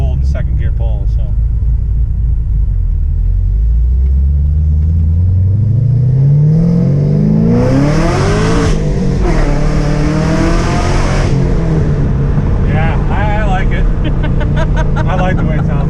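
A Chevrolet Camaro ZL1 with an X-pipe exhaust pulls hard in second gear from a roll, engine note rising steadily from a deep rumble to a loud rasping howl, heard up close from inside the car.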